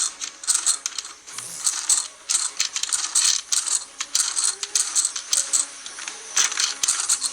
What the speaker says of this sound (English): Underneath Prime's right wheel, we have a roller that's going to help spin your Matrix.